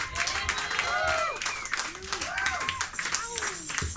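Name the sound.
audience applause for a performer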